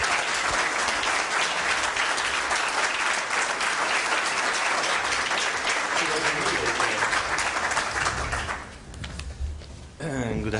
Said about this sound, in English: may I ask you to give a big round of applause to Laszlo Andor